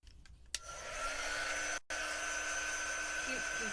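A handheld dryer blows over a chalk craft project, a steady whining hum after a few clicks that starts up, cuts out for an instant, then resumes at an even level.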